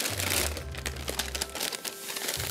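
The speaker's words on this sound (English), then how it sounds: "I'm going to take this parchment paper, pick it up, and make a shoot." Parchment paper crinkles and crackles steadily as it is lifted and folded into a chute while baking a pumpkin upside-down cake, with close, continuous papery rustling throughout.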